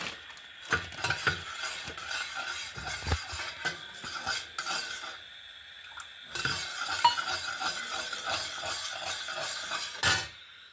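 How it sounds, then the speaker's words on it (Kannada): Semolina and cashews roasting in ghee are stirred briskly, with repeated scraping and clinking of a metal spoon against the pan over a soft sizzle, close up and in an uneven rhythm, without any voices. "ರವೆ ಹಾಕ್ಕೊಂತ ಇದ್ದೆ. ಸರಿ ಹುರ್ಕೊಳ್ಬೇಕು ರವೆಯನ್ನು."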